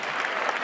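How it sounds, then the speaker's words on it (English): Audience at a keynote talk applauding, a dense, steady wash of many hands clapping together, continuous and fairly loud throughout the brief moment, with no talk. "analyze that applause"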